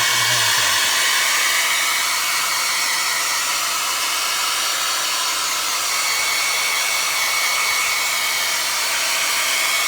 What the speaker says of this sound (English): And then we can dry that with a hair dryer.